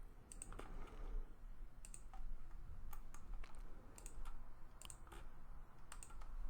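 Computer mouse clicking while working in CAD software to label pipe network structures, a quick scatter of light, sharp clicks and taps, some in pairs, spread over a low steady room hum with no talking.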